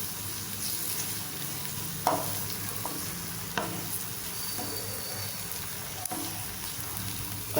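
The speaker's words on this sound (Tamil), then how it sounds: "இது கூட 2 முட்டை நான் உடச்சி வச்சுருக்கிறேன், அதை ஊற்றிக்கலாம். லேசாக அப்படியே கிளறி விட்டுக்கலாம்" Two beaten eggs poured into a frying onion mixture in a pan for egg rice and lightly stirred, a continuous soft sizzle with a few sharp spatula scrapes against the pan, close and moderately quiet.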